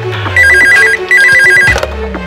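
Telephone at a hotel counter ringing close and loud in two bursts of rapid trilling electronic rings, separated by a short pause, with some background movement noise.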